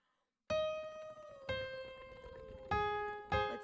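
A keyboard plays a major chord as a downward arpeggio: four clear, ringing notes struck one by one after a short silence, each decaying slowly, close and moderately quiet.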